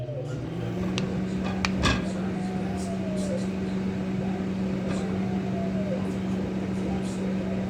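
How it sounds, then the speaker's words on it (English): A microwave oven running while cooking an egg, a steady low electrical hum with faint clicks and rattles, continuous and fairly close, with a brief louder knock early on. "Back in the microwave you go. 30 seconds."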